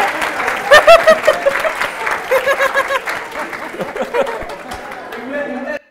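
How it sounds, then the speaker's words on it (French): An audience claps and cheers for a competing team at a televised game show, bursts of dense, loud applause swelling and easing with a few laughs mixed in, before the clapping dies away at the end. "On applaudit tous cette équipe d'abord."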